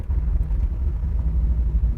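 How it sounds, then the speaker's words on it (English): A truck rolls past near a car dealership facility, a steady low engine rumble heard from inside a moving 1972 Chevrolet Nova, continuous and fairly loud. "Here's another truck."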